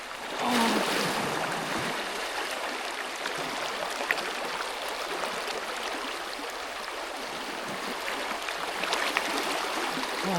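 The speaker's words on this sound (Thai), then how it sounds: "โอ้นี่ครับลำธารสดชื่นมากครับ" Forest stream flowing beside a Karen-style campsite in Kaeng Krachan, Phetchaburi, Thailand, a steady broadband wash of water running close by for the whole stretch, with no talk over it.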